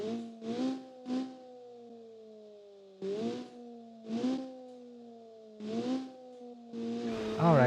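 A rally car engine in a video game revs repeatedly in short rising bursts separated by brief lulls, with a steady tonal whine underneath and no voices.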